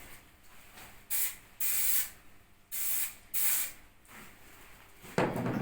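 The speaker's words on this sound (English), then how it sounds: "I'm just going to put a bit of spray glue on the top edge here" Spray glue hisses from a can onto the top edge of an MG Midget car seat in four short, close bursts with pauses between them, followed by a brief low thump.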